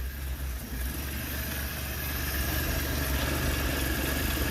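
A steady engine runs right after a fuel prime, a close, even mechanical drone with a low rumble and a faint whine, holding constant and swelling slightly, no voices over it.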